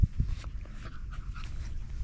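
A dog pants quickly and breathily at close range while playing fetch in a backyard, with a couple of soft thumps at the start and faint whimpering sounds mixed in.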